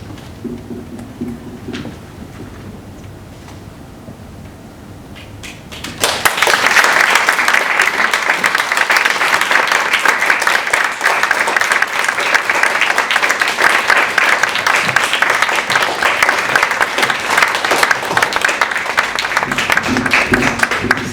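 Audience applause following a choir performance at a performance and panel event: after about six seconds of near-quiet, loud, dense clapping breaks out from a full room and continues steadily to the end.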